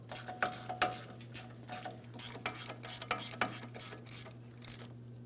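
A ratchet tightening the upper ball joint nut on a GMC Sierra 2500 HD: quick, close clicking strokes in an uneven rhythm over a steady low hum, with no voices.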